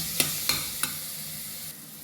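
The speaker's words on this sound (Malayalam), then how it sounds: "ചേർത്ത് ഇത് നല്ലോണം ഗോൾഡൻ കളർ വരെ ആകുന്നവരെ വഴറ്റി കൊടുക്കുക കേട്ടോ" Chopped onions are sautéed in a pan for a chicken curry, making a soft continuous sizzle with three quick spoon taps near the start.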